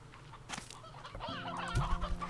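A roostro, a rooster-like chicken from the Slime Rancher 2 video game, clucks and chatters in a short run of close, lively calls over soft game ambience, growing louder toward the end.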